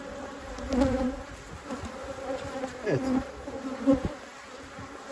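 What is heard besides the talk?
honeybees buzzing around open hive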